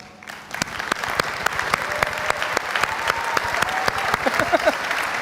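An audience at a conference presentation claps steadily, dense applause with some sharp individual claps standing out, building slightly as speakers are welcomed to the stage.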